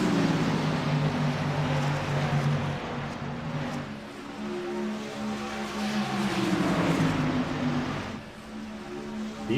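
Race cars circling Las Vegas Motor Speedway during a late-race stretch with eleven cars on the lead lap, their engines droning continuously with pitch sweeps as cars pass, steady and loud throughout.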